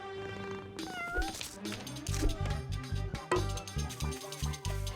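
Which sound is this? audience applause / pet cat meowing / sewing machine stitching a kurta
pet cat meowing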